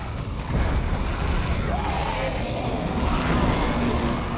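Airplane engine roaring steadily nearby, a loud broadband rumble that swells slightly and holds throughout.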